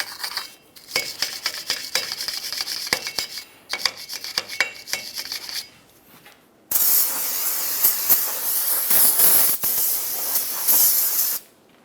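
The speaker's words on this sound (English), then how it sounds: "We'll hit it with some parts cleaner and then some Never-Seez." Aerosol parts cleaner sprays onto front brake parts of a 1994-2002 Dodge Ram 2500, a loud hissing blast in short bursts for several seconds, then a longer, louder continuous spray with no talking.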